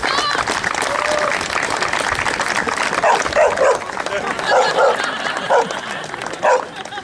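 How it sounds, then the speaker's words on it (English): A dog barks several times in quick bursts at a university athletic banquet, cutting through steady crowd murmur and a speaker talking over a PA. "He got heckled by the dog a little bit."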